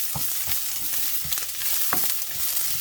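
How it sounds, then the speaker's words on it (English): Onions fry on medium heat in a pan for fried rice, a steady close sizzle with a few louder stirring scrapes and spatters; no talking. "So I'm not really worrying about scorching the onions too much. It's on medium"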